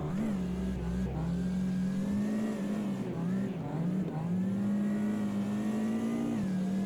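Race car engine in a VR racing game, a loud close onboard drone with rising and falling revs as the car drifts through corners, steady and continuous without talk.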